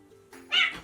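A pet cat yowls in an angry caterwaul right after its tail is stepped on, a loud, close, strained cry swelling midway through a short burst, with quieter rustling before it.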